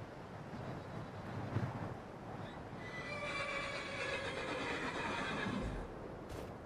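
A horse whinnies in the fantasy video game Skyrim, a single drawn-out neigh at moderate distance over steady wind noise in a cold outdoor setting.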